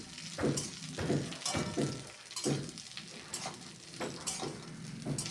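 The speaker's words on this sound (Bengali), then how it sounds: "এরপর আলু বেগুনটাকে একটু ভালো করে, আরও ভালো করে একটু ভাজা ভাজা করে নেব।" Potato and eggplant fry with slit green chillies in a pan, a continuous close sizzle broken by repeated stirring scrapes at a steady pace.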